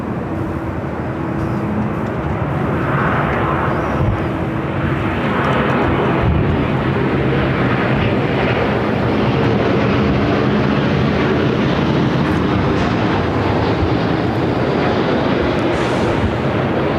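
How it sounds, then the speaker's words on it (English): A Boeing 787-8 Dreamliner jet airliner arriving at LAX from Tokyo Haneda passes with a steady, loud, broad engine roar that holds at nearly constant strength throughout, with no talk. "The 787-8 Dreamliner coming up from Tokyo, Haneda."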